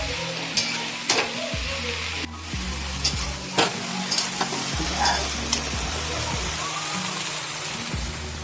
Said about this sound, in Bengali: এটা কিন্তু হাই ফ্লেমে রান্না হচ্ছে